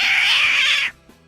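A human voice imitates a cat in a dog-and-cat fight, a loud, high, strained yowl held for nearly a second before cutting off abruptly into near silence.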